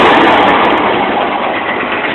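A truck's diesel engine with injector knock and a turbo revs hard at a high, sustained pitch, a dense continuous roar with no talking over it.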